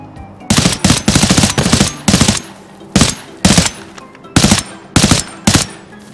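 Rapid automatic gunfire from a firefight in the video game Arena Breakout Infinite, loud and close, coming in repeated sharp bursts of several shots each with short pauses between them.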